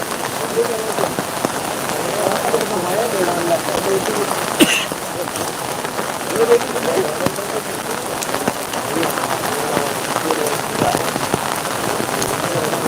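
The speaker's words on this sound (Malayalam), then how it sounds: "നല്ല മഴയാണ്" Heavy rain pours steadily at Kottiyoor, a dense, even hiss of drops striking surfaces close by, continuing without a break.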